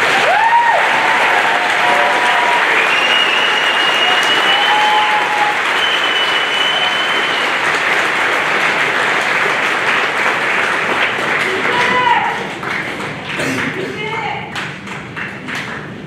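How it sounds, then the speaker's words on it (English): A large crowd applauds at a school's eighth grade celebration, sustained and loud for about twelve seconds before tapering off, with scattered whoops and voices in the mix. "Let's hear another round of applause."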